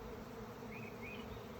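A swarm of bees buzzing steadily near a house, a continuous soft drone with a few higher whines drifting through, fairly quiet and with no voices.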